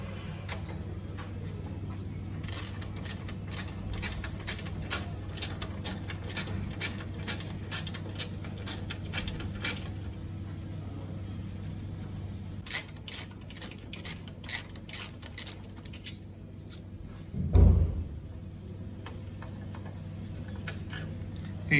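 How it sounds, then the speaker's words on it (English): Ratchet wrench loosening two OEM bolts on a Yamaha Tenere 700 frame, rapid clicking pawl bursts repeating in quick runs, close and fairly quiet, with a brief clunk near the end. "So we'll remove these 2 bolts."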